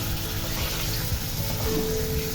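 Three pieces of rohu fish frying in hot oil for a red amaranth greens dish give a steady, close, unbroken sizzle throughout.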